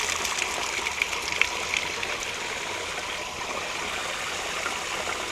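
Water draining from a faucet at the bottom of a well tank, a steady hissing gush of flowing water with slight trickling variation, close and continuous.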